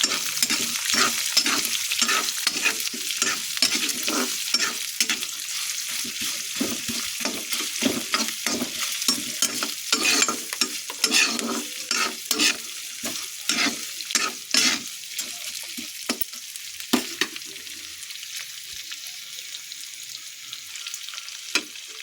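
Onion frying in a pan before tomato goes in, a continuous hiss of sizzling oil broken by repeated scraping stirs of a spoon, close and moderately loud, easing slightly toward the end with no voices.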